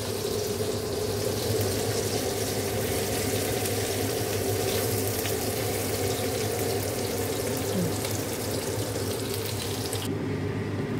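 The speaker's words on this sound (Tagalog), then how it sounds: "Prito na natin siya konti." Morcon, a Filipino meat roll, frying in a pan (caldera), a steady close hiss and sizzle of oil running unbroken throughout, with no talking.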